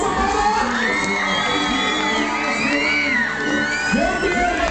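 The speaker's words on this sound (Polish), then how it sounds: "Wielkie brawa!" A crowd at a Silesian weavers' fair cheers, whoops and shouts loudly and continuously, with children's voices and yells mixed into the dense, close roar.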